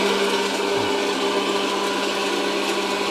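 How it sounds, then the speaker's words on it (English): Stirring popcorn popper and hot air popper running together as a steady, even mechanical hum and whir with a constant airy blower noise and no breaks. "So the stirring popper is stirring. The hot air popper is going."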